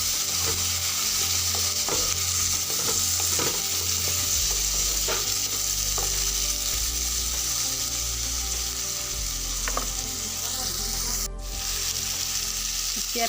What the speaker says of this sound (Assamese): হালধি দি লৰাই দিছোঁ